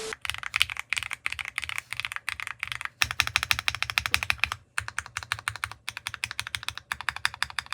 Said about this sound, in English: It just sounds amazing, and I love this keyboard so much